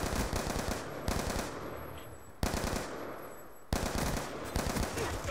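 Bursts of automatic gunfire ring out in the multiplayer shooter game Black Ops 2, with four loud, close volleys of rapid shots, each trailing off before the next begins, and no voices.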